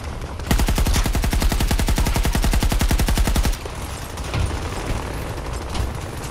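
Rapid automatic gunfire in Battlefield 2042, a long sustained burst of evenly spaced loud shots that cuts off abruptly, followed by lower, scattered battle noise and rumble.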